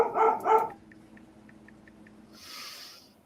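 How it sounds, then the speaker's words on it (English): A dog in a home gives two quick, fairly loud barks right at the start during a live podcast, then falls silent over a low room hum, with a brief soft hiss near the end. "I got a dog barking here"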